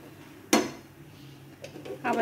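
Lid set back onto a nonstick frying pan while pancakes cook, one sharp metallic clatter followed by a couple of lighter knocks and rattles.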